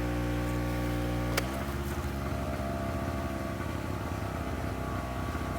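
A Harbor two-stroke generator runs steadily nearby under a moderate load, giving a continuous buzzing engine drone with an even pitch and no talk over it. A brief sharp click interrupts near the start.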